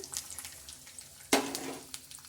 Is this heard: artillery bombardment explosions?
no